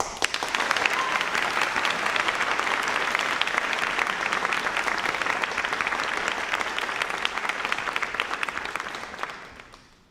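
An audience at a senior school closing ceremony claps steadily for an award recipient, dense sustained applause filling the room for about ten seconds before tapering off.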